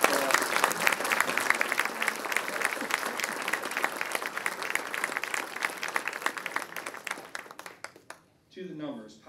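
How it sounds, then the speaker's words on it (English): An audience at a 2019 State of the Economy event in St. Pete, Florida applauds as people stand: dense, steady clapping for about eight seconds, then fading out as a voice begins speaking. "So please, if those people could stand and round of applause."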